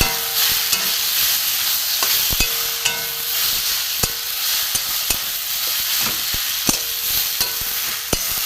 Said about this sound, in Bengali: এতে একটু আমি চাট মশলা দিয়ে দেবো, দিয়ে ভালো করে একটু কষিয়ে নেব।